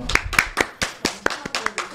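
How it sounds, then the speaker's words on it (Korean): Around eleven sharp, evenly spaced hand claps ring out close by during an indoor chat with a champion bartender, with a voice faintly beneath them. "박수."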